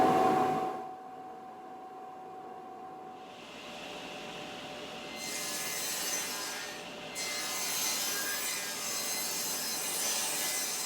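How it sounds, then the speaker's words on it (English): A saw set for half-inch cuts rips through wood pieces for a garden obelisk, its quiet whirring hiss rising and falling across several passes in a workshop, with no talking. "So I'm going to set up the saw for 1/2 inch and do the remainder at 1/2 by 1/2."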